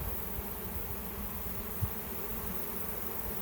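A swarm of honey bees hums in a steady, dense drone close by, the even buzzing holding without a break, with one faint bump partway through.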